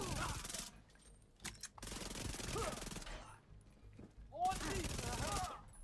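Automatic gunfire in The Division 2, several bursts of rapid shots separated by short pauses, sharp and close, with a voice speaking between volleys.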